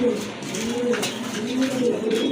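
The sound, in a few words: satin male pigeon cooing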